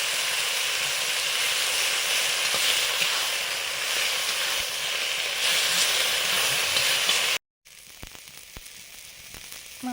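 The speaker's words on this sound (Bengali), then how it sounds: "ডিমা শাকে ভাজা হচ্ছে" Dima greens fry in a pan with a loud, steady hissing sizzle that runs unbroken for several seconds, then cuts off abruptly into quieter, sparse crackles.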